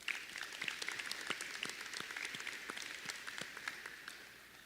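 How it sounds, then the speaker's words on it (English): Applause at a high school senior celebration honoring graduating seniors, a fairly soft, continuous patter of many clapping hands from a crowd that tapers slightly toward the end. "let's give our graduates a round of applause for that"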